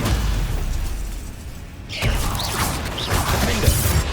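Stupefy stunning spell cast in Hogwarts Legacy, a burst of magical impact and crashing effects erupting partway through after a quieter stretch, followed by a few sharper pops.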